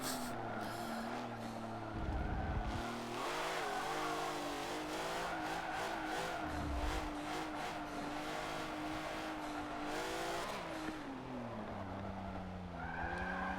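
A race car engine in a Forza race revs and shifts through gears, its pitch rising and falling repeatedly with brief tire-skid bursts, loud and steady with no talking.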